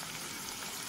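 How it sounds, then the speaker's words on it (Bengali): Sliced onions deep frying in hot oil on a gas flame, a dense, even sizzle that runs steady and close throughout the short moment. "এই যে পেঁয়াজগুলোকে ডিপ ফ্রাই করবো"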